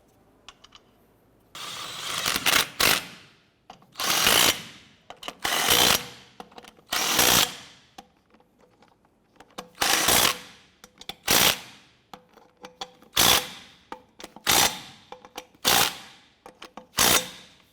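Impact wrench snugging down lug nuts on a Chevrolet S-10 wheel, a run of about a dozen sharp rattling bursts, each a second or less, separated by short pauses, close and fairly loud.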